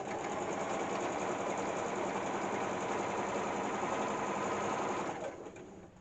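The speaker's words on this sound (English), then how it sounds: "Sew along the line where you folded it." A sewing machine runs steadily, stitching along the folded edge of fabric for a simple drawstring bag. The motor whirs continuously and evenly at close range, then slows and winds down at the very end.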